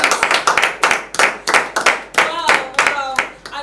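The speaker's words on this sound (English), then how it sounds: "Ladies and gentlemen, round of applause for Reverend Steve." A church audience claps for a preacher, a close, lively burst of hand claps that rises in uneven waves and fades toward the end, with a few voices mixed in.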